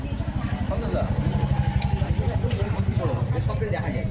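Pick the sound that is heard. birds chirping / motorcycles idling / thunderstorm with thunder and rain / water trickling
motorcycles idling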